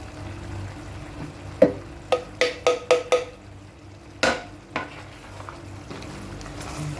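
Chicken feet are stirred in a pan over a low frying hiss, with a series of sharp metallic clanks of a utensil against the pan in quick succession, then a few more spaced knocks, close by and without talk.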